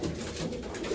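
Andhra pigeons cooing in a pigeon sale setting, a soft low throaty coo that is brief and steady, heard close amid faint background noise.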